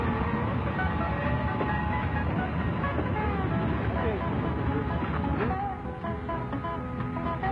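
Steam locomotive pulling a train, a rumbling mechanical roll with intermittent squeals and clanks heard at moderate distance, with someone narrating over it.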